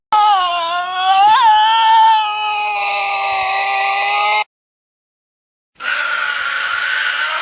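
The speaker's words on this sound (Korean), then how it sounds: "실제 태즈메니아 데빌의 소리를 눈을 감고 들어보시죠" A Tasmanian devil screams in long, harsh, wavering cries, loud and close, one drawn-out shriek rising and falling before a short silence, then another raspy wail.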